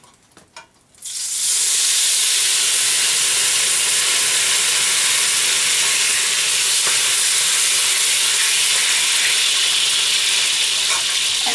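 Lemon juice poured into a pan of browned butter cooking for trout erupts into a loud, sustained sizzling hiss that begins abruptly after a brief quieter moment and holds steady for about ten seconds, with no talking.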